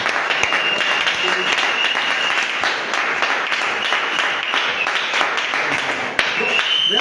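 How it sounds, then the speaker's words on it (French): A church congregation applauds loudly and steadily for several seconds in a dense wash of clapping, with voices mixed into it. "Bon, acclamons tes frères pour le Seigneur."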